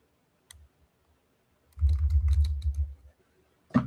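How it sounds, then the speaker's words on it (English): Keys clack on a computer keyboard at a desk in a quick cluster of typing, close and moderately loud, over a heavy low thumping drum beat, with a single click before and another after. "What we hear is the keyboard and the drum beat from the desk."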